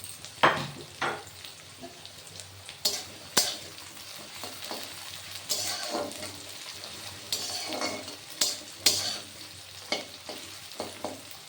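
Onions half-frying in a pan for a vegetable tarka, with a low continuous sizzle broken by repeated scrapes and knocks of a spatula stirring against the pan, close and moderately quiet, no talking.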